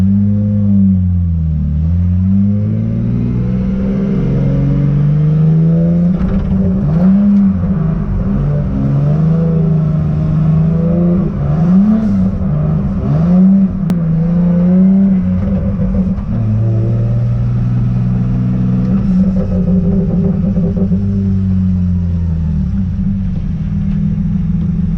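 A Nissan S14 drift car engine revs repeatedly, rising and falling close and loud, with crackling pops and little burbles when the throttle is lifted around 2,000 to 3,000 rpm, continuous rumbling throughout without speech.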